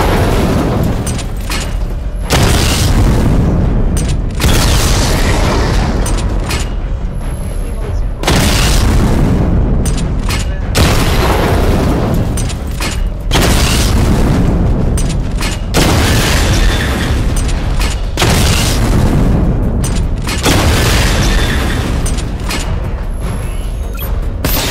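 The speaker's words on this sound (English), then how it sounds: "Charge the missile barrage to level 2 to destroy up to 4 targets at once" Batmobile missile barrage in Batman Arkham Knight: loud, heavy explosions boom in rapid succession, one blast after another in a sustained roaring volley with little pause between them.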